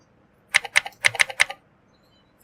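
A quick burst of about seven crisp keystrokes on a computer keyboard while typing a search, close and clear against near silence, with one more isolated click at the very end.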